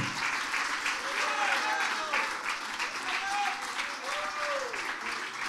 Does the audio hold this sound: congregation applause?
yes